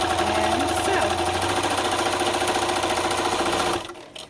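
A sewing machine stitches black vinyl bag straps with a fast, steady mechanical chatter, close and continuous, stopping abruptly near the end.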